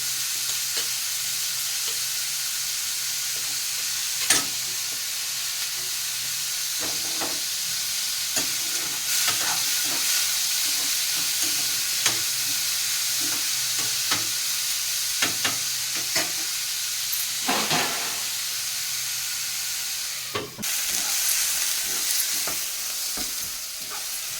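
Onions and tomatoes fry in a pan with a constant close sizzle, broken by repeated scrapes and clinks of a ladle stirring, and no talking throughout.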